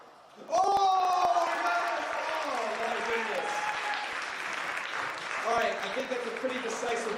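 Staff talent show audience in a high school gym breaks into loud applause and cheering for the winning groups. It starts abruptly and stays steady for several seconds, with a voice talking over the clapping.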